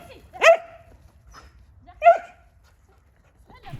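Two sharp barks from a dog at an outdoor agility club training session, spaced about a second and a half apart, with a faint third sound at the end over quiet background noise.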